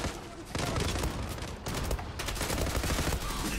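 Rapid automatic gunfire in the online shooter Zula rattles in dense, loud bursts with short gaps between them, and a voice is faintly audible underneath.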